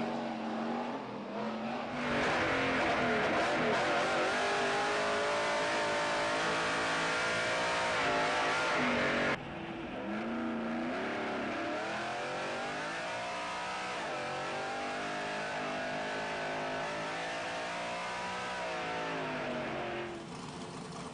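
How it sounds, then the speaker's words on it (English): A 1999 Chevy race truck with a GM Vortec V8 climbs Pikes Peak on a test run, engine roaring hard and continuously, revving up through gears with a brief shift dip midway, heard from on board. "the Herzog Motorsports Chevy entry is ready for the second test run of the day"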